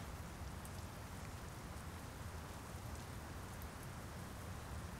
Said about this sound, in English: let's park inside since it's raining